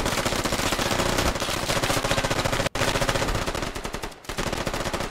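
Loud, continuous machine gun fire in the military shooter Squad, a rapid steady stream of close shots with only a couple of split-second pauses.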